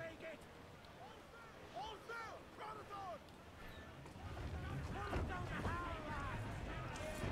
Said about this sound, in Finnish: Oo, täällä tuulee.